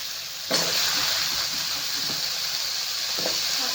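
Fresh drumstick pods from a home tree drop into red-chilli masala frying in a pan for a village-style amti, setting off a steady close sizzle and hiss with a few soft stirring knocks.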